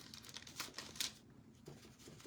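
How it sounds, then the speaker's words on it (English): A paper towel twisted and dabbed against a painted surface gives soft crinkling, scuffing touches in a short close burst, alone with no talk. "turning my paper towel as I'm dabbing, just to give it, again, some more texture."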